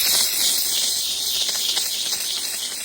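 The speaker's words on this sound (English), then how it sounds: "so I can go ahead and begin to steam the outsoles" A handheld steamer hisses steadily and loudly on the outsoles of Air Jordan 12 "Cherry" sneakers, a continuous close-up broadband steam rush with no break.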